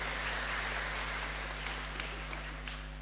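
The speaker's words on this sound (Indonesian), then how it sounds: "Ayo tepuk tangan lagi." Steady applause from a congregation at a Sunday Mass, fairly soft and distant, with continuous clapping filling the whole stretch and no voices over it.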